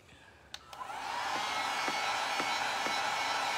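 A hair dryer dries paint on an elephant-and-flowers painting, switching on after a couple of soft clicks and then blowing in a steady, even whoosh until the end.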